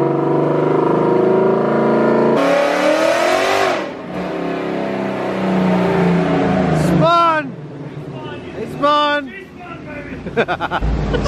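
A 1000hp 2018 Mustang GT with a 3-liter Whipple supercharger revs hard on a dyno, engine roaring and climbing in pitch with rising whines, while people shout excitedly over it.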